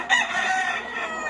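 A prized fighting gamecock at a breeding yard crows once, close and loud, in a single drawn-out call over faint background noise.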